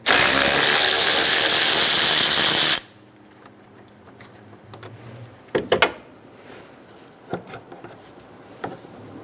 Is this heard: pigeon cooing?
no